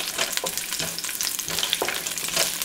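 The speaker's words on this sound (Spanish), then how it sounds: "Aquí ya tengo el aceite caliente, son 3 cucharaditas de aceite. Le vamos a añadir la cebolla que se dore un poquito." Chopped onion fries in hot oil in a pan, giving a steady close sizzle with crackling pops and occasional stirring scrapes throughout.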